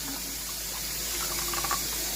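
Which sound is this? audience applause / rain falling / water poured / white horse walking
water poured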